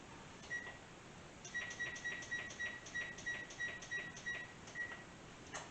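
Oven control panel set to preheat gives a run of about a dozen short, evenly spaced electronic beeps in a quiet kitchen, with faint clicks alongside.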